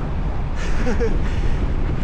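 Strong wind buffeting a microphone during a training ride, a continuous low rushing roar with faint brief tonal traces, fairly close and steady.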